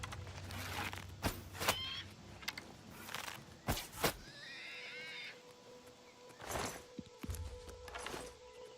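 A horse whinnies loudly several times in the foreground in Oblivion Remastered, over a busy mix of hoofbeats, thuds and game sound effects.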